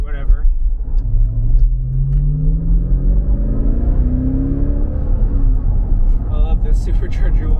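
A supercharged Jeep Grand Cherokee Trackhawk rumbles from inside the cabin while driving, the engine note rising slowly as it accelerates over a deep road drone, with a person talking over it.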